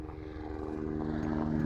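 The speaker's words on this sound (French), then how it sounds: "Un hélicoptère." Helicopter passing overhead above a garden property in Bayonne, a steady, droning engine and rotor hum that holds constant and swells slightly louder toward the end, with no talking.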